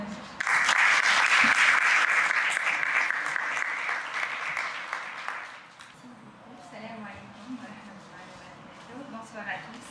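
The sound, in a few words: audience applause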